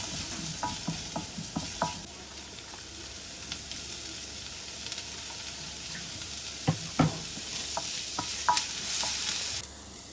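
Cabbage and small-cut leek stir-fried in a hot pan for egg fried rice: a steady close sizzle runs throughout, broken by sharp spatula taps and scrapes that cluster near the start and again toward the end.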